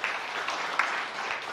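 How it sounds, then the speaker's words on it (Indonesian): Church congregation applauding during a sermon, a steady wash of many hands clapping at moderate level, even and sustained throughout with no speech over it. "Yang mau tepuk tangan yang meriah bagi Tuhan Yesus"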